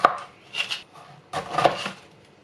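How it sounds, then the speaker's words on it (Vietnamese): A knife chops through a lime on a cutting board in two quick bursts of sharp, close cuts separated by a short pause, with no talking. "Mình cắt chanh để làm nước sốt."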